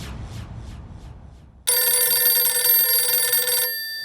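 A telephone rings loudly with a continuous electronic bell tone lasting about two seconds after some quiet background rustle, then cuts off.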